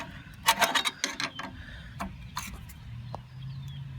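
A wrench works at a carburetor bolt on a Tecumseh 5.5 engine of a Yard Machine MTD tiller, giving a quick cluster of close metallic clicks and ratcheting scrapes followed by a few sparse knocks and a faint hum.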